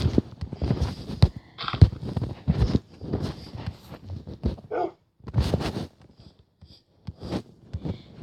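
Several dogs bark in loose, irregular bursts, some loud and close with quieter whimpering-like gaps between, and no talking over them.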